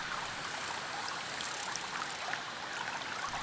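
A forest stream in the Vosges du Nord sandstone country flows steadily, a soft continuous wash of trickling water with no voices, fairly faint and even throughout.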